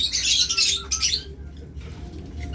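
Lovebirds of a local breed give loud, harsh squawks and chirps up close on a rooftop farm, in a dense burst that then tapers off.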